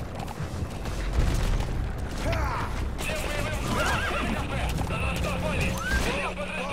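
Horse whinnies and hoof clops in the video game Metal Gear Solid 5, several rising neighs over creaking mechanical game sounds, with a voice talking over them.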